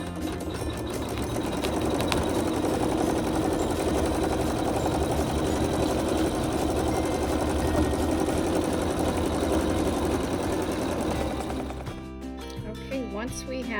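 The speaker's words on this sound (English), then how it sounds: "it's going to stitch a double row of stitching" An embroidery sewing machine stitches a double row of stitching in a steady, fast, continuous mechanical whir. It runs unbroken and close for about eleven seconds, then stops, leaving quieter room sound.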